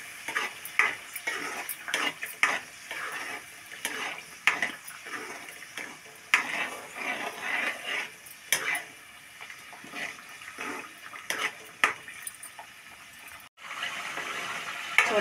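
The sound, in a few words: frying onion masala in a pan for chicken curry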